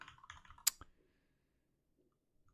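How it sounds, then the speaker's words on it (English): A short, close burst of rapid keystrokes as code is typed on a computer keyboard, ending abruptly in near silence with a couple of faint clicks. "And then I can basically type it over."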